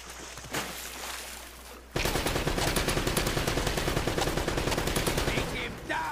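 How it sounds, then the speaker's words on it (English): Sustained light machine gun fire in the video game Uncharted, a loud rapid burst of shots running steadily for several seconds after a quieter stretch with scattered distant shots. "I literally just came back, and I'm getting shot at. Oh, just from that tag with an LMG."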